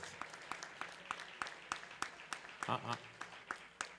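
A small group applauds honorees at a community center event, sparse distinct claps spaced out across a few seconds with a voice briefly heard in the middle.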